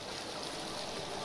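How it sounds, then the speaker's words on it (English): Waterfall in the Hollow Knight video game, a dense, continuous rushing hiss of falling water, steady and fairly loud throughout the short moment. "Oh, beautiful waterfall."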